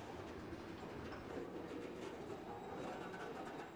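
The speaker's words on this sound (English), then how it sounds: "And this is the last car on this freight train" Freight train with hopper cars rolling past close by, a steady loud rumble of wheels on rail with faint clickety-clack throughout.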